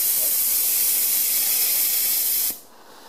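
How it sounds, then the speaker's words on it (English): Steam hisses steadily and loudly from a homemade steam engine setup for about two and a half seconds, then cuts off abruptly, leaving a quieter background. "So I've got my steam here."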